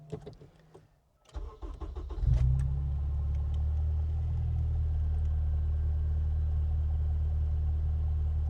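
A K-swapped Honda EK1 fitted with individual throttle bodies cranks over with a few quick clicks and catches, firing into a loud, deep, steady idle that stays close and even.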